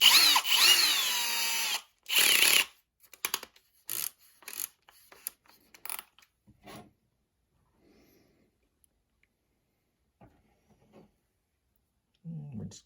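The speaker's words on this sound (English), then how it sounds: "So first thing we'll do is drill our hole." Power drill boring a hole in a shop while repairing an RC Cat 6015B excavator cab: a loud whirring burst at the start, then a short second run and a series of quick stuttering trigger pulses, fading to near silence.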